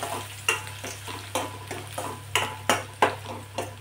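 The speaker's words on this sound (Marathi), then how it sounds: "लसूण तेलावरती परतला, थोडासा परतला की कांदा टाकायचा, म्हणजे कांदा सुद्धा आपल्याला थोडासा परतून घ्यायचा आहे" Garlic and onion frying in oil with a steady low sizzle, broken by regular scraping strokes of a spatula against the pan about twice a second, close and fairly quiet.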